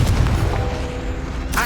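An explosive Confringo spell blast goes off in Hogwarts Legacy, a loud booming burst that decays into a rumbling tail. A short sharp flourish follows at the end.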